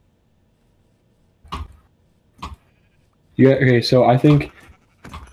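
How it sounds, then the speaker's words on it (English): Sheep bleat in the Minecraft video game, a couple of short calls followed by a longer wavering bleat, with a person talking briefly in between. "There's a bunch of sheep here."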